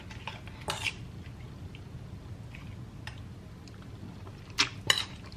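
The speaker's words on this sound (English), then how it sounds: "now we can stir and refrigerate" Utensil scraping and clinking in a bowl as beef carpaccio marinade with black pepper is stirred, a few brief clatters and soft wet scrapes with quiet pauses between.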